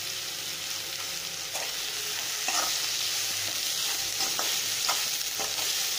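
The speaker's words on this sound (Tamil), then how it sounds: "இப்போ எல்லாத்தையும் நல்லா வதக்கி விட்டுக்கோங்க." Onions for Sri Lankan onion sugar sambal fry in a pan with a steady sizzle, with repeated spoon scrapes and taps as they are stirred, close and moderately quiet.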